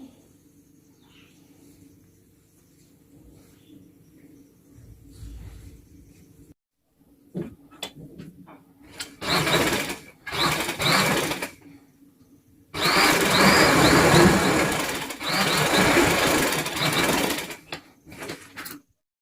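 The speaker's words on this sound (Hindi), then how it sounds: "बड़ी वाली फ्रिल है उसमें मैंने जोड़ डाला है, तो सबसे पहले मैं जोड़ पे सिलाई लगा लेती हूँ" Sewing machine stitching the joint seam of a large sharara frill, running in short bursts at first, then a louder sustained run near the end, close by with no talk.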